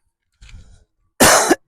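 A soft throaty rasp is followed by a loud, close cough and a second cough cut short at the end.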